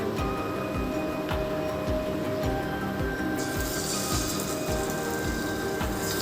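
Battered eggs frying in hot oil for a Bengali chilli egg dish, giving a steady, close crackling sizzle like rain that runs throughout, with a faint regular thumping pulse underneath.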